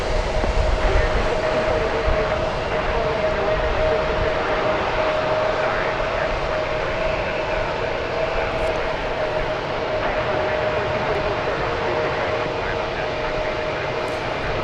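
A nine-year-old Airbus A320 jet taxiing at DFW Airport as it gets in line, giving a steady, distant engine roar with a faint constant hum that holds evenly throughout.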